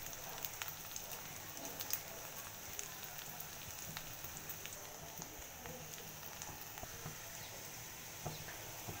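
Onion and green chili fry softly in a pan, a faint, steady crackling sizzle with scattered small pops and no voices.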